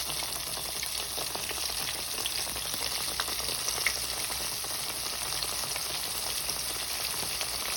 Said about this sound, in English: And you see how it starts to fry immediately?